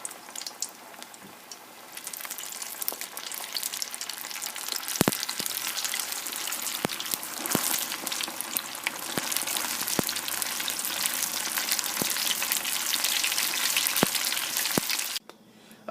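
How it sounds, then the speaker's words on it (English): Red snapper fish slices frying in hot oil in a pot, a steady loud sizzle and crackle running throughout with occasional sharp pops, alone with no talking. "this is the fish finished frying"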